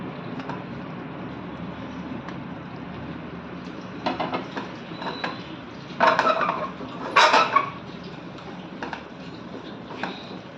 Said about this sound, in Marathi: आता आपण त्यामध्ये फ्राय केलेले गोबी टाकणार आहोत